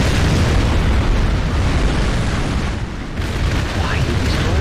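Massive, continuous roar of a Topol missile explosion tearing through barracks in a strategy video game, loud and broadband with rumbling debris filling the whole stretch.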